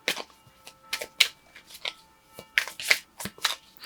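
Crisp bursts of Kali Oracle cards being shuffled, several quick riffling sweeps at uneven intervals, close and fairly quiet, with no talking.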